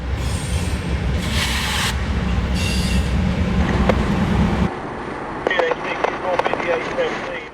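A freight train passes close by on a railway line near Folkston at the Georgia–Florida line, a loud, steady rolling roar with bursts of wheel squeal, then fading to quieter clicks and squeaks as the cars go by.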